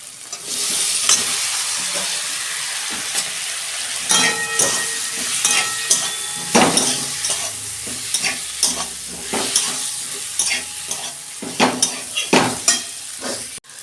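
Vegetables fry with tomato and ginger for vegetarian dalia, a steady sizzle broken by repeated scraping stirs of a spoon against the pan, close and clear with no talk.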